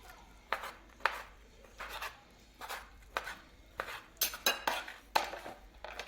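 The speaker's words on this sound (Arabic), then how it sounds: "نقصو الزدر تاع الدجاج هكذا" Knife cutting raw chicken breast on a board in a home kitchen, a series of quiet, separate slicing strokes and knocks at an irregular pace, some clustered quickly together, close and faint, with no talk.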